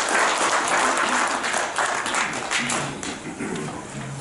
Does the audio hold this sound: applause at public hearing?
yes